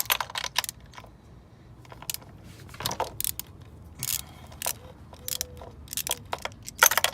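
Screws being loosened from the valve cover of a BMW F10 engine, with a series of sharp metallic clicks and ratcheting taps at irregular intervals, close and fairly quiet, with no talking.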